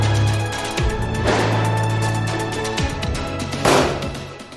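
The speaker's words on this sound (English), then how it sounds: "Just a few shots here for display" Two or three muffled gunshots, heard through Walker's Silencer Bluetooth in-ear protection with its sound dampened, are spread across a few seconds over a steady droning background hum.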